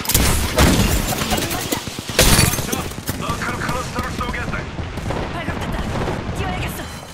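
Apex Legends gunfire bursts loud and close, with heavy volleys and booming impacts early on, then lighter scattered shots under a character's voice.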